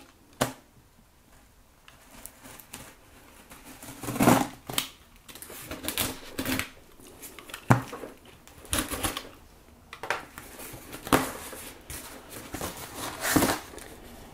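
A cardboard shipping box for a Hot Toys collectible being cut and opened from the bottom; intermittent sharp cardboard rips, taps and scrapes in irregular bursts, close and without talk.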